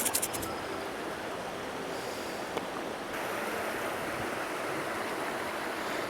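Turbulent stream water rushing through currents, a constant broadband roar of flowing water heard close and steady for six seconds, with a few brief clicks near the start and no talking.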